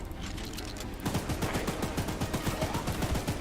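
A weapon fires at the train monster in the game Choo Choo Charles: a rapid, regular string of close shots begins after a short pause and keeps going to the end.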